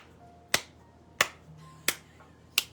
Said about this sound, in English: The one clap.